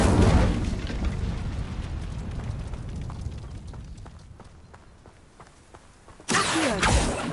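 An Incendio fire spell blast in the video game Hogwarts Legacy: a loud roaring whoosh that fades gradually, then a second loud burst near the end.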